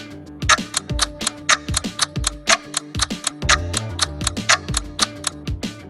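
Steady countdown timer ticking for a quiz question, a regular run of crisp clock-like ticks about four per second over a soft low tone, close and clear with no talking.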